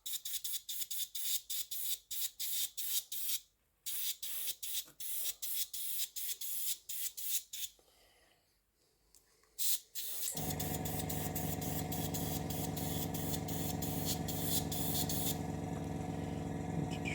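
Airbrush or spray can laying a light dust coat of paint onto a model of the Russian Navy Project 955 Dolgoruky submarine, heard as repeated short hissing bursts that give way to a long, steady, close spray.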